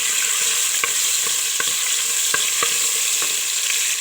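Garlic sizzles in a quarter cup of oil in a cooking pot while a spoon stirs it, a steady close frying crackle with soft scraping taps scattered through.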